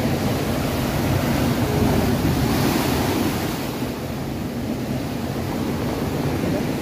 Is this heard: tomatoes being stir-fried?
no